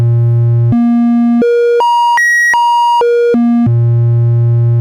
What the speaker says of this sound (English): Let's hear the triangle.